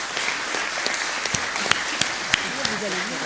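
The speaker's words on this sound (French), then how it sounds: "il nous reste à remercier les 3 orateurs en les applaudissant" A conference audience applauds the speakers after a session on antibiotics, a steady, fairly soft patter of clapping heard from within the room with a voice speaking over it.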